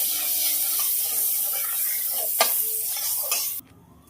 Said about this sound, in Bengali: আর দিয়ে দেবো বাটার।